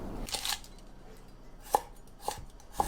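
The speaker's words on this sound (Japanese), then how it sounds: "キャベツはざく切りにするんですけど、芯の部分は切り取って別で薄切りにしておくと食べやすいです。" A knife chops roughly through cabbage on a cutting board, with a cluster of quick cuts at the start and then three sharp, separate knocks spaced about half a second apart, close and fairly clear, with no talking.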